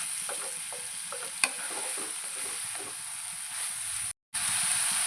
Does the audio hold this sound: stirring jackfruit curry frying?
yes